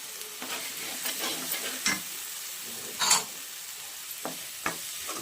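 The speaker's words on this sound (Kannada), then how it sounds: "ಚೆನ್ನಾಗಿ ಹಾಕಿ ಮಿಕ್ಸ್ ಮಾಡಿ ಫ್ರೈ ಆಗಲಿ." Potatoes frying in a pan with chilli powder and coriander powder being stirred in. A steady sizzle runs throughout, broken by repeated scraping spoon strokes, one louder than the rest.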